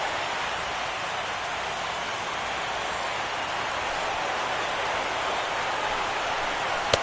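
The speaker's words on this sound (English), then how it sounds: "The rain, as we've mentioned, coming down fairly steadily here at game time." Steady rain falls over a baseball stadium during a wild card game, a constant even hiss with no breaks, a brief tap right at the end.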